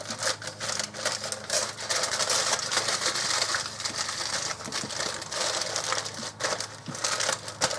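A packet of asparagus with butter on top is folded up by hand, giving continuous close crinkling and crunching with irregular sharp crackles, no voices.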